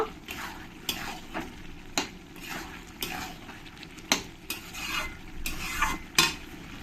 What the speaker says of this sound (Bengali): এবার আমি না ঢেকে কিছুক্ষণ এমনি আমি কষিয়ে নেবো গ্যাসটা বাড়িয়ে দেব